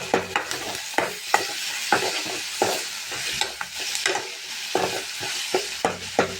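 Chopped medium tomato sautéed in a pan for egg podimas, with repeated scraping stirs of a spatula over a continuous sizzle in an irregular rhythm.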